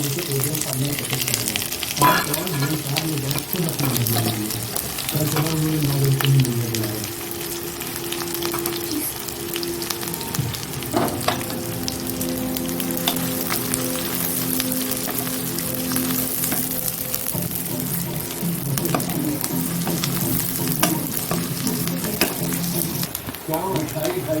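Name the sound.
onions frying in hot oil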